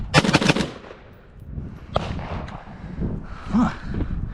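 An MK18 rifle fires at a range: a quick burst of several sharp shots at the start, then single reports spaced apart, loud and close, with no talk over them.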